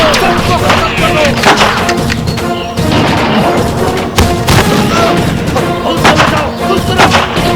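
Rapid gunfire and crashing impacts in a Hindi action film, sounding loud and continuous throughout, dense bursts of shots layered with blasts and a busy soundtrack, with no clear speech.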